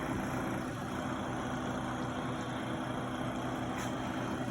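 A rebuilt 1930s refrigerator compressor runs on a bench with a steady low hum and fine mechanical buzz, droning evenly and close with no pauses.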